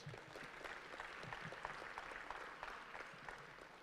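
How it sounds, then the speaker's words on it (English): Audience applause fills a gala hall honoring the Wendell Scott legacy, a steady wash of many hands clapping at moderate distance, fairly quiet and continuous throughout. "Can we please give Ms. Scott and the Bell Navis family another round of applause?"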